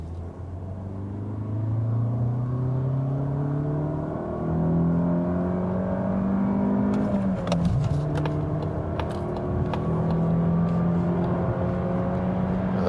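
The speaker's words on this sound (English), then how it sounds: "Now the CX-30, acceleration second gear from 40 kilometers." A Mazda CX-30 with a Skyactiv-X engine pulls hard in second gear from 40 km/h, its engine note climbing steadily in pitch under continuous road and wind noise, with a gear change or bump partway through.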